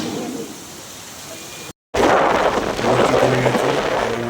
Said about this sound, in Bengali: শিলিগুড়ি ঢুকেই বৃষ্টি